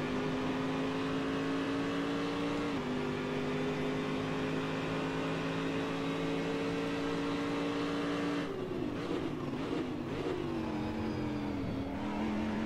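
Corvette DP race car driven in Assetto Corsa, a steady loud engine drone holding one pitch, then shifting down and wavering as the car brakes and revs through a corner, with no talk.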